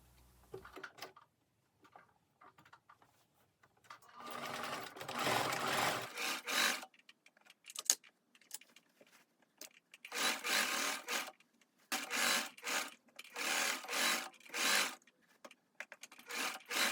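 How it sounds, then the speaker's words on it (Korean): A sewing machine stitches a lace-trimmed denim dress, running in repeated close bursts of rapid whirring separated by brief pauses, with no voices. "재봉을 합니다."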